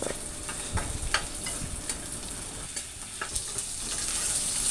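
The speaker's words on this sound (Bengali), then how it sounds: "মাছগুলোকে একটু লাল করে ভেজে নিতে হবে।" Fish fries in a pan with dried chillies, giving a soft, continuous sizzle with scattered crackles and pops. The sound is fairly quiet and close, with no voices.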